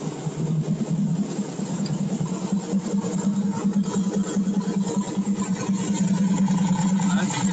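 A carbureted blow-through engine running on E85 with a CSU carb idles after a cold start on a warm day, a close, steady low rumble with a lumpy, rhythmic pulse.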